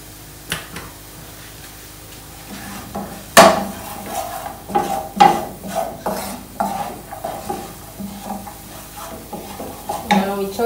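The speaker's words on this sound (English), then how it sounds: "We are going to add a little bit more oil." Oil sizzling in a frying pan as homemade taco filling is stirred: a low frying hiss under repeated scraping and clinking of a utensil against the pan, with a sharp clank near the start.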